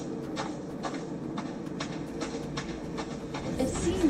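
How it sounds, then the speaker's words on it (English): A train rolls past in the video game Nobody Wants to Die, a steady rumbling wash with repeated clacking bursts that swell slightly louder toward the end. "Oh, the train."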